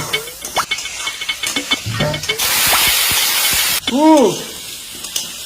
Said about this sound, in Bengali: দেখিস না আলু ভাজা করতেছি